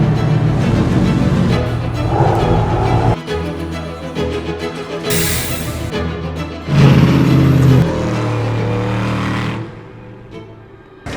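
A prototype race car runs in a practice session ahead of qualifying in the Prototype Cup Germany, its loud engine surging and dropping in pitch as it accelerates, shifts and backs off, then fading to a quieter drone near the end.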